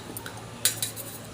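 A knife trims the sides of a peeled banana stem, giving two crisp close taps of blade meeting board in quick succession against a faint quiet background.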